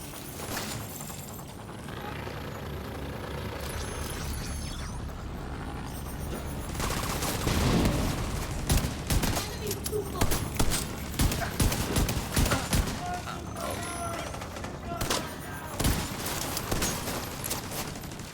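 Shotgun fire in the video game The Division 2, with repeated sharp blasts and clattering impacts amid steady background game noise and no talking.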